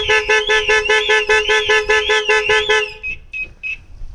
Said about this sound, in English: we've actually set a horn honk trigger with a slight delay